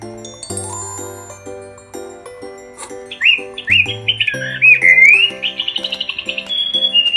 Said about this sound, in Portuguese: Olha só como o Marbo imita bem um passarinho